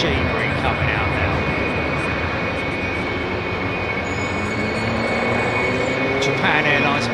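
A Japan Airlines airliner at London Heathrow gives off a broad, steady engine roar, loud and continuous throughout, with a thin high whine above it and someone talking over it.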